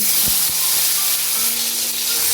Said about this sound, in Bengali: টমেটোটা ভেজে নিচ্ছি